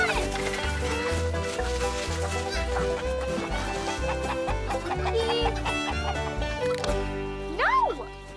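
Chickens cluck repeatedly in a Western-set scene, short clipped calls rising over rhythmic background music, with a voice speaking among them and a rising squawk near the end.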